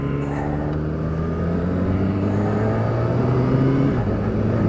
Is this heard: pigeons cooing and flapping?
no